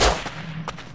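Gunfire from an M4 rifle in the survival video game Rust Legacy, a few sharp reports, the first loud and close and a later one softer, with no talk over them.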